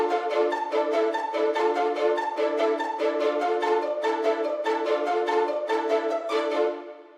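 Pizzicato arp synth from the Expand plugin in FL Studio plays a steady, fast plucked pattern of bright repeating notes over a sustained tonal bed, ending with a quick fade.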